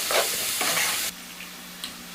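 Ground beef sizzles and crackles in a hot pan with stirring, loud at first then dropping to a softer sizzle.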